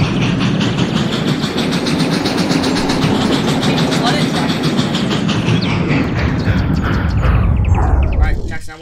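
A train in the video game Sodor Online rumbles steadily along with a rhythmic clattering of wheels, a loud continuous mechanical roar that fades slightly at the end.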